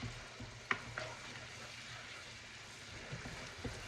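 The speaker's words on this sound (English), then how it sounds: "All right, I've got all that scraped off the bottom of the pan." A utensil scrapes across the bottom of a pan while broth deglazes it for creamy Tuscan chicken pasta. Faint stirring and soft scraping sit under a low sizzle, with a couple of light knocks.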